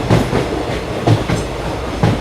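A train rolls along with a loud, continuous rumble and rhythmic clickety-clack of wheels over rail joints, the heavy thumps recurring about once a second, close and steady with no voices.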